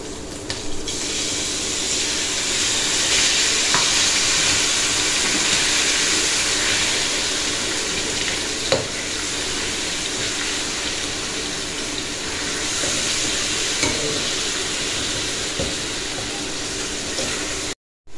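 Chicken sizzling steadily in a pan with ginger and garlic, a continuous bright frying hiss with occasional soft clicks of stirring, no talking.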